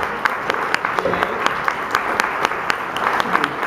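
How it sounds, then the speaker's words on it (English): Audience applause: a crowd claps steadily and briskly throughout, with a few murmured voices beneath the clapping. "give them a round of applause to thank them"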